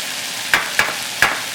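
Pasta sauce cooks in a pan on a stovetop, with a steady soft sizzle underneath three sharp spoon taps or stirs against the pan spaced about half a second apart.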